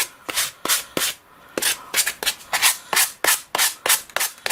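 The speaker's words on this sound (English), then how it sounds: "then you just go over it with a piece of sandpaper." Sandpaper rubbed over the edges of a paper tag makes a series of about a dozen rhythmic, close scraping strokes with short gaps between them.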